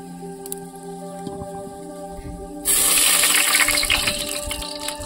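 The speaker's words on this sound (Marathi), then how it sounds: "आपण पाणी ऍड कर दिला।" After a quiet stretch with a low hum, water suddenly gushes into a cooking pot of oil-roasted whole spices and bay leaf, a loud, splashing rush that continues to the end and eases off slightly.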